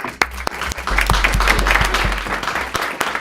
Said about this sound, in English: let's give the three of them a round of applause